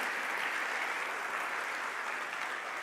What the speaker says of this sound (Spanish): Dele un aplauso al Señor, porque hoy Dios te mira como justo.